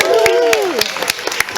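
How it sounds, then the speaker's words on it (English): An audience claps and cheers at a horror makeup show at Universal Studios in Orlando, a brief burst of applause with a voice speaking over it. "Let's have a big round of applause for Miriam."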